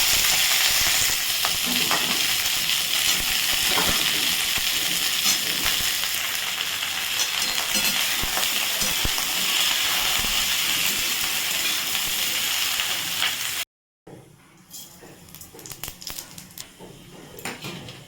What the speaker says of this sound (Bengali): আজকে ভাজবো পেঁয়াজ কলি আলু